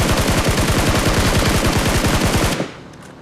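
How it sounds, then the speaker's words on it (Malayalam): Rapid automatic gunfire in the mobile battle royale game BGMI, a loud, close, continuous burst of fast shots lasting a couple of seconds before cutting off abruptly. "അവനെ വെടിവെക്ക്."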